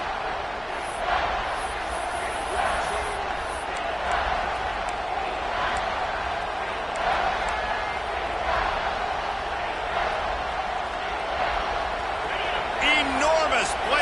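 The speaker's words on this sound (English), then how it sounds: "this crowd is bringing down the house" Stadium crowd at a UNC versus Tennessee football game roaring on a third down, a dense sustained wash of noise from many voices with a few sharper shouts and whistles, under continuous commentator talk.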